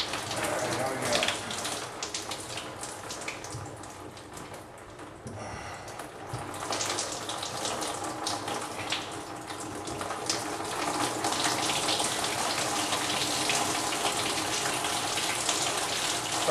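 Water gushing from a loosened drain fitting under a bathroom sink being snaked, a steady splashing flow close by that swells and dips, with no talk.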